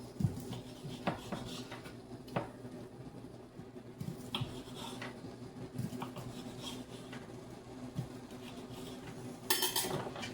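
A knife slices smoked sausage into chunky pieces for a seafood crab boil, giving scattered light clicks and taps against the board with faint clatter between cuts, close and fairly quiet, with no talking.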